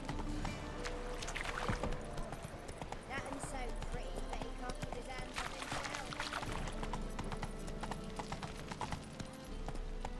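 Geralt's horse Roach trotting in The Witcher 3, a brisk rhythmic clip-clop of hooves running steadily beneath game ambience, while someone talks over it.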